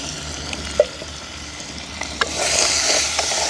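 Tomato and curry leaves get stirred into onions and green chilli frying in a pan, with soft scraping strokes and clinks over a continuous sizzle that grows louder toward the end.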